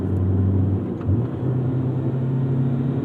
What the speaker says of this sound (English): these gear ratios in this EK9 Civic are hilariously short 5-speed